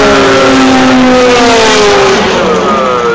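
A Porsche race car, number 20, screams past at Le Mans. The engine is very loud and near, and its high pitch sweeps down over about three seconds as the car passes.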